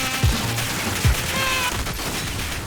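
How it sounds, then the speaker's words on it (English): Rapid gunfire during a Warzone solos gunfight, with sustained automatic bursts from both players holding the trigger, plus a few heavy low thumps over steady game noise. "that last gunfight, they were both holding down the trigger"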